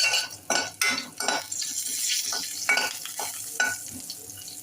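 Mustard seeds, cumin, hing and finely chopped garlic are tempered in hot oil, crackling and spitting in a close, loud sizzle with repeated metal spoon scrapes against the pot.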